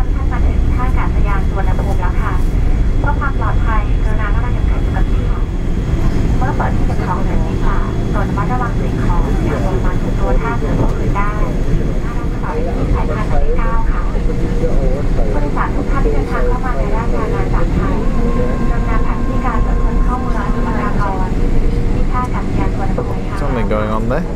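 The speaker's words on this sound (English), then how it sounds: "Full brakes, and we're turning off the runway already." Thai Airways Boeing 777 cabin on the runway after landing, a loud steady engine and braking roar filling the whole stretch, with cabin announcements and chatter running over it throughout.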